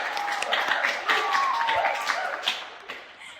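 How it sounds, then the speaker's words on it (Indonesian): Applause from a podcast audience for a young guest at an Indonesian student council forum, a moderate patter of claps with some voices mixed in, steady for a few seconds before thinning out. "Sekali lagi tepuk tangan buat Marella"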